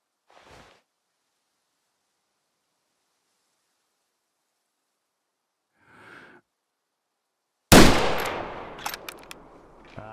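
A rifle fires in an elk-hunting video game: after quiet breaths, one loud sharp shot rings out close, followed by clattering echoes and brief mechanical clicks.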